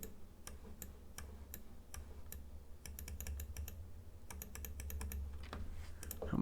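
Computer keyboard typing and mouse clicking during a Minecraft Beta session, heard as close, crisp keystrokes coming in irregular bursts over a low steady hum.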